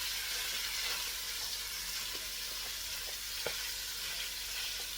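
Italian sausage browning in a pan, a soft continuous sizzle with faint scraping and stirring taps, quiet and close with no talk.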